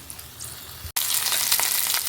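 Sliced onions sizzle loudly in a hot pan, a quieter frying hiss first, then a sudden surge of crackling and spitting after a brief gap, sustained and close with no talk.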